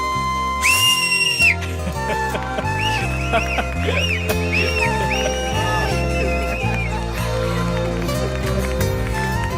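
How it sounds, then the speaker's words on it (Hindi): In a Hindi-dubbed film scene, a whistle gives one loud, shrill blast near the start before film music carries on steadily. "अरे मैडम सीटी बजा दी दो। सीटी सुनना चाहते हैं? सीटी बजा दो प्लीज।"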